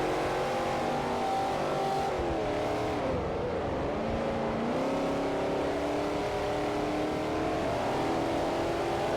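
A classic Ford Mustang engine roars in the racing game Forza Motorsport 4, a loud, continuous drone whose pitch dips and climbs as the throttle shifts, with no talking.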